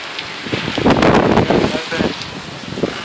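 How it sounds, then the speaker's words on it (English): Heavy rain pattering and hissing close by on the Siksika Nation, with a brief burst of talking mixed in partway through. "Rain pretty hard."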